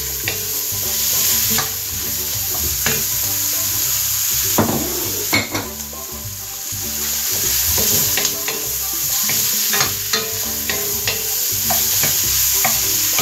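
Vegetables for ratatouille, including aubergine, cook in a pan over medium heat with a constant close sizzle, while a spoon scrapes and clinks against the pan at irregular intervals; nobody speaks.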